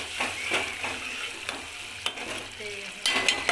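Potato curry being stirred in a pan with a spoon, soft sizzling frying under scraping and clinking strokes at an uneven pace, close and moderately loud, with no speech.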